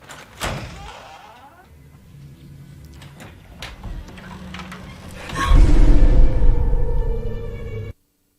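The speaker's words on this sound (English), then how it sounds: "Somehow there's banging on a front door in a house that has no peephole" In a 2013 horror movie, a front door in a house takes several sharp bangs and creaking thuds, then a loud, sustained rumbling surge that cuts off abruptly, with voices faintly mixed in.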